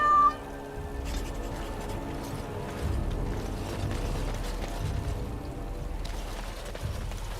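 A cat meows within a Dragon Age Origins: Awakening game scene, set against steady game ambience with faint mechanical ratcheting and creaks, the meow brief and near at the very start.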